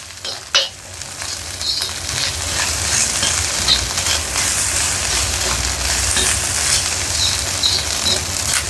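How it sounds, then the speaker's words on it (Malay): Fried rice being stirred and tossed with seasoning in a hot pan, a continuous loud sizzle with scraping and clinking of the utensil against the metal, steady throughout, no talking. "Lepas tu kita gaul nasi goreng kita dengan perencah"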